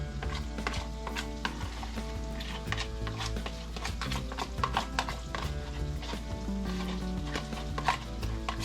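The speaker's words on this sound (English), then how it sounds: "So now we're going to add the barbecue sauce in with the beans." A spoon scraping and knocking in a pot as barbecue sauce is stirred into meaty baked beans, irregular close clacks and scrapes over a soft simmering hiss, with no talking.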